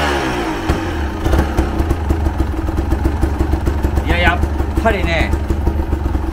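A Honda CRM250AR 250cc two-stroke motorcycle engine runs nearby with a loud, uneven, rattling idle and occasional blips of revving, while people talk over it.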